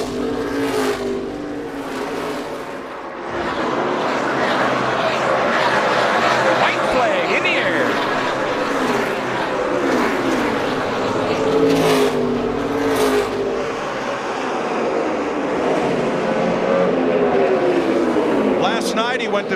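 NASCAR Cup Series race cars roaring around the track at Michigan as the field comes off the final corner, a loud continuous engine howl with passing cars under excited commentary.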